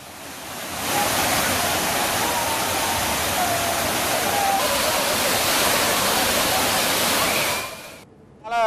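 Courtallam's main waterfall in Tamil Nadu, running high after flooding, gives a loud, steady roar that fills almost the whole stretch, then drops away sharply near the end.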